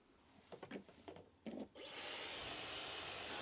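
A few soft knocks and handling noises, then a hairdryer powered by an Anker SOLIX C1000 power station switches on at full 1,330 watts, blowing with a steady, loud, hissing roar.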